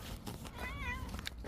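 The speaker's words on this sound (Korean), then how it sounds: "아유, 우리 야옹이" A cat meows with a rising and falling tone, close by and fairly clear over a low background hum, with a little faint talk around it.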